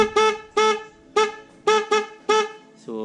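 A single MOCC horn fitted to a motorcycle, tested on its own after the stock horn is removed, blares six short, loud, harmonic honks in an uneven rhythm, with a seventh beginning at the very end.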